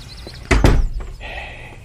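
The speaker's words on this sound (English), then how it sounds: "Get the door, Blore." An old barn door swings open with a heavy wooden thunk and creak, loud and close, followed by a lingering drafty rumble.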